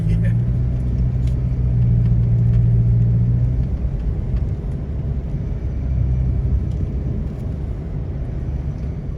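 Mauritania's long iron ore train rolling past a moving vehicle, a loud continuous low rumble and roar that holds steady throughout and eases slightly toward the end.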